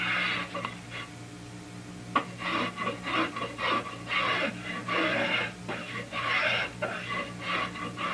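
A hand file or rasp works the bottom edge of a wooden boat part, rounding it over in repeated rough strokes, each a close, moderately loud scraping burst with short pauses between, against a low background hum.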